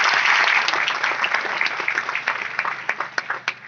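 A crowd claps loudly at first, then the applause thins out into scattered individual claps before fading.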